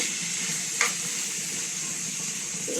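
Meat for adobo made with cola fries in a pan as it is stirred, giving a constant close hiss of sizzling with one brief scrape of the utensil partway through.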